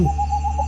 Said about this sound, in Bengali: রাত জাগা পাখি পেঁচার ডাক আর ঝিঝি পোকার আওয়াজ